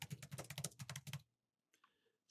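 Quick run of computer keyboard keystrokes while laying out a text block in Adobe InDesign, about a dozen close, crisp taps in a burst, then near silence with a couple of faint clicks.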